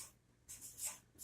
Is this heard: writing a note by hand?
yes